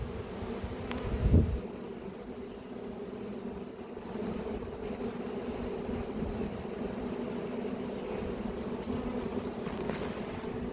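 A swarm of honey bees hums steadily and continuously outdoors, a close, even buzzing drone with a brief low thump near the start and no talking.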